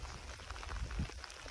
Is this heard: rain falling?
yes